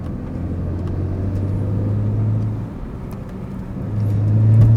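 BMW 135i with the N54 engine driving on the road, a low steady engine drone and rumble heard from inside the cabin with a sunroof, rising slightly toward the end, with no talking.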